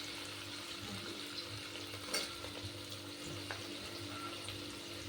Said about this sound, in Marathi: आता आपल्याला सोयाबीनला चांगलं परतून घ्यायचं आहे.